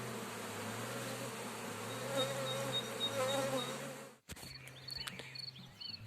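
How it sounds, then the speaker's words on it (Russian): A swarm of honeybees flies around a beekeeper's apple tree where the swarm was taken down, a loud steady buzz of many wings filling the first four seconds, then dropping to a quieter hum with scattered nearby passes. "вокруг еще куча летной пчелы, они еще не уселись"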